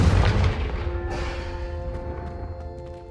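A Confringo fire spell blast in the Hogwarts Legacy video game: a single deep boom at the start, with a crackling tail and ringing tones fading out over a few seconds, with no talk.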